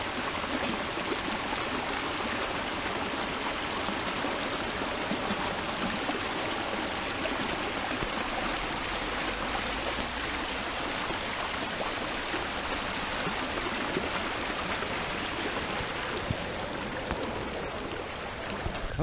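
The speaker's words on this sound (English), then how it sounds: "with all the rain, we're probably having some good amounts of water coming down this little waterfall" Water pours down a small waterfall swollen by rain, a steady, even rushing and splashing that stays constant and fairly soft, with no voices.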